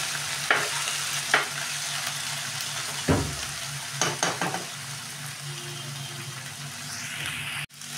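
Small kachki fish frying lightly in hot oil, a steady close sizzle running throughout, broken by several sharp scraping stirs and knocks of a spatula against the pan.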